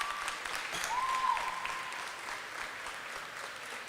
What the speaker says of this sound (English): the students who participated tonight deserve another round of applause